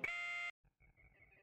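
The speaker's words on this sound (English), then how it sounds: "Why are my alarms going off?" An alarm in the space game X3: Albion Prelude sounds as a loud, harsh electronic horn-like tone for half a second, then cuts off, leaving faint, quieter beeping tones.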